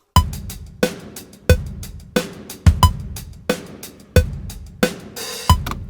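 A quantized programmed drum beat of eighth and sixteenth notes, with punchy kicks, crisp snares and tight hi-hats in a rigid, even groove, loud and alone.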